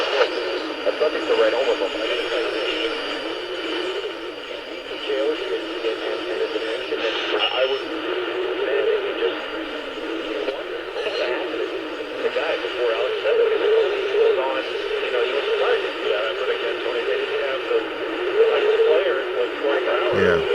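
AM radio station pulled in on a Sangean 909X portable receiver with an AM antenna, a steady broadcast signal carrying voice-like content through hiss and noise, continuous and fairly even in level for the whole stretch.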